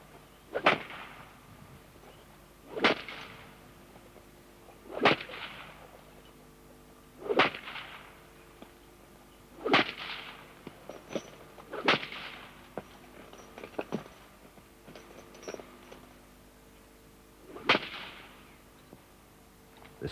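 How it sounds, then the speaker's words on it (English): During a colt's training lesson, a whip cracks sharply about eight times at roughly two-second intervals, each crack loud and close above a quiet background, with a few fainter snaps between. "After foot leading, the colt has a whip cracking lesson."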